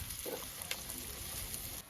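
Onion, curry leaves and green chili fry in oil in a clay pot, a soft, steady sizzle with faint stirring scrapes, quiet and continuous throughout.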